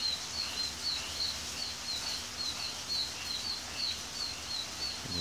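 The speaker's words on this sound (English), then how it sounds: "These birds are fucking pissed." Birds call agitatedly outdoors, a steady stream of high, repeated chirps and tweets at a moderate distance, running continuously over faint background noise with no talking.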